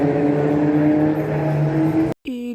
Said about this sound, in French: Écoutez-moi juste ces bruits de moteur s'il vous plaît.